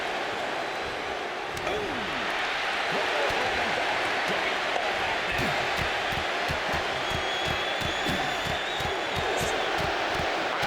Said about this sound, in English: And this crowd is loving every second of it.